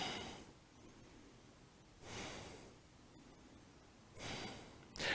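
Slow, deep breaths during a yoga pose, three long airy exhalations spaced about two seconds apart, close and quiet against a faint room hush.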